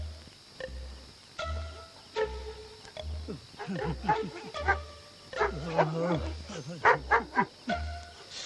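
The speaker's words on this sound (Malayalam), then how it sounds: "ഈ പട്ടി എന്തിനാ അങ്ങനെ കിടന്ന് കുറയ്ക്കുന്നത്" A dog barks and yelps several times among people talking, with a steady low thumping pulse running underneath.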